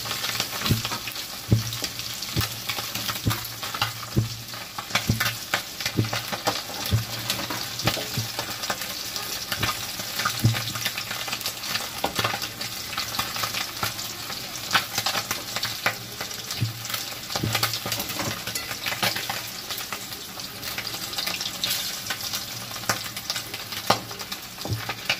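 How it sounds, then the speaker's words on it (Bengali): Small fish such as tangra fry in hot oil in a pan with a steady, dense sizzle and crackle that runs continuously and evenly from start to finish, with occasional stirring scrapes and no talk. "মাছগুলো ভাজা হয়ে গেছে"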